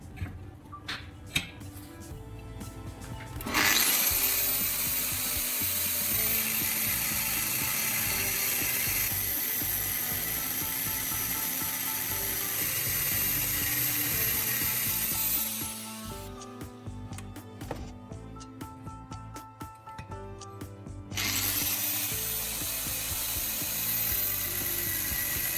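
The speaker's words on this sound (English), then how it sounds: "Then I clamp it down firmly and cut it clean with the grinder." An angle grinder cuts through a clamped steel bar, giving a loud, sustained high-pitched whine with harsh grinding noise that runs for long stretches, breaks off briefly, then starts again, heard close up.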